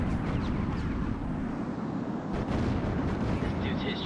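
Loud, rumbling explosion of a destroyed ground target in the H.A.W.X combat flight game, a continuous dense roar with jet-aircraft noise through the whole stretch and a brief swell midway.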